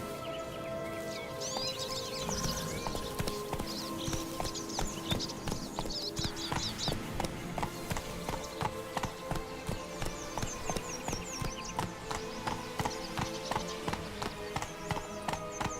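Hooves of Roach, Geralt's horse in The Witcher 3: Blood and Wine, clip-clop steadily at a brisk gait, a regular rhythm of fairly close hoof strikes laid over soft music and ambience.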